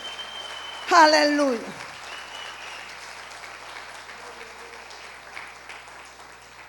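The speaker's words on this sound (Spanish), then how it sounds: "¿Cuántos le pueden dar un fuerte aplauso al Señor?" Church congregation at a family service applauding, a soft continuous wash of clapping in the hall after a voice briefly calls out, the clapping fading and lingering quietly in the background.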